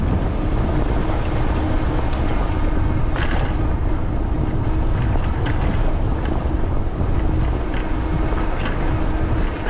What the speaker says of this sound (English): Have that headwind again.